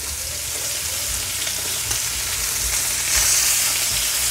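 Rib eye steak sizzling and frying in a pan with butter, a steady close crackle and hiss that holds at an even level throughout with no talking.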